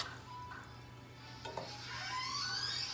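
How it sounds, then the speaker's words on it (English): Whisk scraping and stirring through half and half and flour for a macaroni and cheese sauce, soft steady swishes with a brief clink, close and alone, with no talking. "So I just wanted to whisk that to make sure there's no flour clumps in here"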